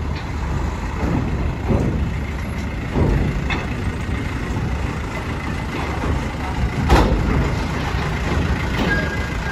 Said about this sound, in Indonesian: Akhirnya kembali lagi truk-truk